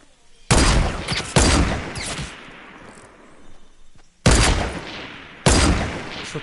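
Four loud, sharp gunshots in a video game ring out at uneven intervals, each cracking and decaying into a short echoing tail, with quieter gaps between.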